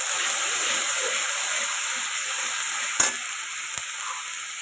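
Spice paste hits hot oil in a pan for potol korma and sets off a steady, loud sizzle and hiss that runs throughout, with a sharp clatter near the end as it is stirred.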